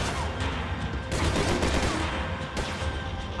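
Dense gunfire in the video game Max Payne 3, a continuous loud crackling fusillade with heavier bursts rising and falling throughout.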